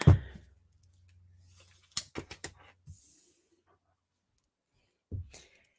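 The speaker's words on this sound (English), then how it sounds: "And that was a sloppy shuffle." Tarot cards are shuffled loosely in a quiet room: an opening thump, then a quick cluster of papery snaps and flicks, and a final soft tap.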